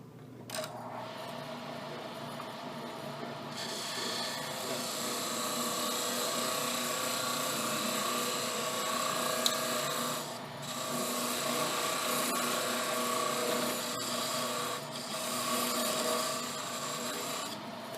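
Steady wood lathe running while a finial is turned and undercut, a continuous whirring hum with a scraping, rasping tool cut held at close range for the whole stretch, with no talking.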